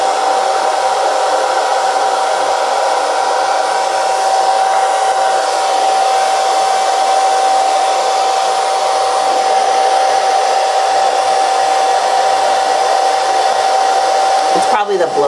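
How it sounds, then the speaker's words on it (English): A blow dryer runs continuously at a loud, steady level with a constant whine and a rushing airflow, and no talking over it. "It's probably the blow dryer, Dean."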